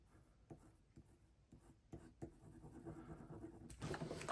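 A pen nib scribbles on scrap paper during Christmas card making, with faint intermittent scratchy strokes close by and a louder rubbing burst at the end, without talk.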